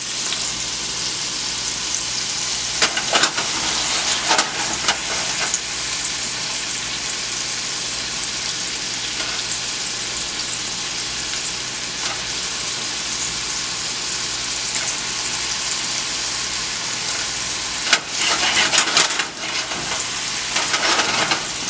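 Onions frying in oil in a pan for meatballs, a loud continuous sizzle up close with occasional scraping stirs and clatters.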